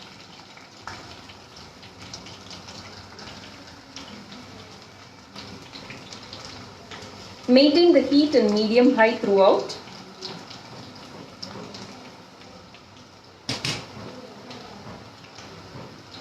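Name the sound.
murukku frying and bubbling in hot oil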